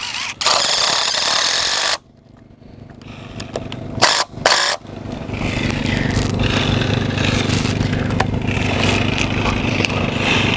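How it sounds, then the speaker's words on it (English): A power drill's loud motorized whine runs steadily into wood, broken by a short pause and a couple of bursts, then settles into a continuous grinding drone. "and then I can then start drilling."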